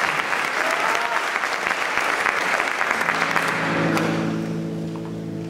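An audience at a Bogotá music awards ceremony applauds loudly for a performer, dense sustained clapping that fades as sustained musical tones rise underneath toward the end.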